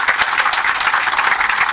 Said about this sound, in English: kindly give a round of applause to my esteemed guests today.